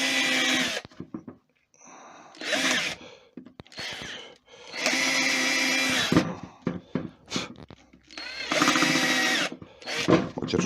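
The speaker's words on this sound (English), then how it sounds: "basically to drill a hole around it" Power drill boring a hole around a stuck screw in wood, with bursts of high whirring separated by short pauses in an irregular stop-start pattern, loud and close.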